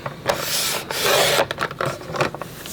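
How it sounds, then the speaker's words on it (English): Paper is trimmed for a scrapbook album, a close, raspy sliding and scraping sound in several short strokes with brief pauses between them. "And then I'm gonna trim this just another 1/4 inch this way,"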